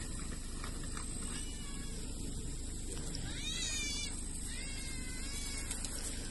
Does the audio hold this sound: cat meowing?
yes